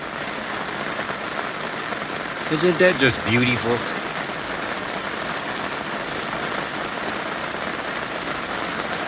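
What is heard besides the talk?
rain falling in the forest, hitting an awning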